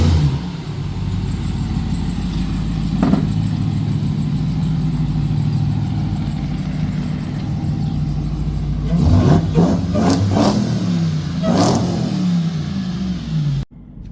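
A Ram TRX pickup fitted with a K&N full intake idles with a deep steady drone heard from the cab, then snaps into a few sharp revs near the end.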